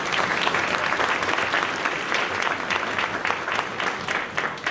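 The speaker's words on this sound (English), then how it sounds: "so let's give him a round of applause" A school spring band concert audience applauds, dense sustained clapping from a full room that holds steady at even loudness for the whole stretch.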